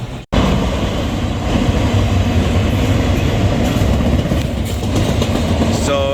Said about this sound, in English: Don't you love being by the train, Jose?